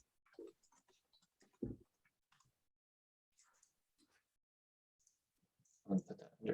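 Faint, sparse clicks of typing on a computer keyboard during a public workshop on a road corridor study, scattered quietly among brief bits of speech.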